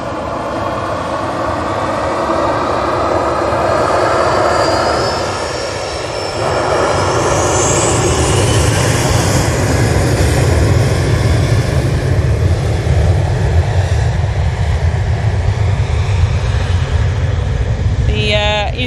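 A Jet2 Boeing 737 jet departs for Rome, its engines roaring loud and steady with a rising whine, the noise swelling and holding throughout at close range.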